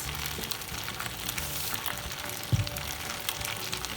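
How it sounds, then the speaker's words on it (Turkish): Potatoes fry in a pan with a dense, even crackling sizzle close by, steady throughout, with one brief knock partway through and no voices. "Patatesimin altını açtım. Şimdi o zaten hafif böyle kızarmaya başladı."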